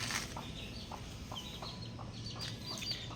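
A White Kelso gamefowl rooster clucks in short, repeated calls over a steady low background, with faint chirps from other birds throughout.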